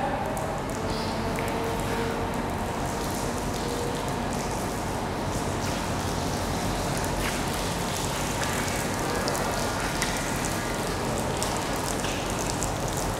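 Steady rain pattering and drumming on the hard flat surface of a waterproof Nanguang CN-ST288C LED light panel outdoors, a dense continuous patter with scattered brighter drips, close by and without talk.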